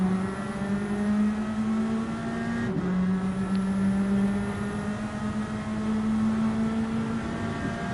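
Onboard engine of the number 99 Chevy race car in a sim racing game at Red Bull Ring, a steady sustained drone held at near-constant revs with a brief dip partway through, loud and continuous.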